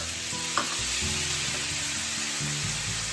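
Steady, loud sizzling from a frying pan of chicken over medium-low heat, a continuous crackling hiss with low stirring bumps underneath, close up and with no talking.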